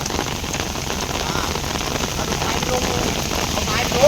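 Heavy rain pours steadily and loudly outdoors where a team is preparing to winch out a stuck backhoe, a dense unbroken hiss of drops on surfaces lasting throughout.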